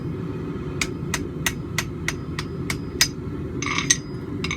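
Half ball peen hammer blows land on hot steel at a forge weld scarf, nine or ten sharp, light ringing strikes in an even rhythm over a low forge roar.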